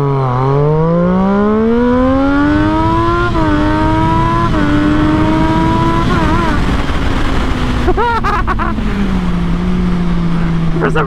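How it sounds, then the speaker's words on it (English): A Triumph Daytona 675 sport bike holds steady on two-step launch control, the engine note rising and bouncing off the limiter, then dropping as it launches; loud, close and continuous throughout, with crackling bursts near the end. "I love a motorcycle with a two-step."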